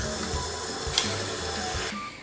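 An electric mixer whirs steadily at medium speed, creaming butter and sugar for chocolate cupcakes, a continuous close motor hum with a faint bump partway through and no talk.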